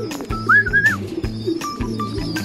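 Racing pigeons coo and call close by as they fly in over a low, steady rumble, with a brief warbling whistle rising and falling near the start.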